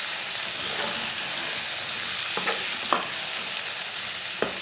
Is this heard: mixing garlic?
yes